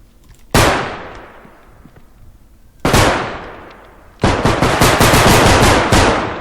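Gunfire in a bodycam-style first-person shooter game: two loud, isolated shots with echoing decay, followed by a rapid automatic burst of closely spaced rounds, close and dominant.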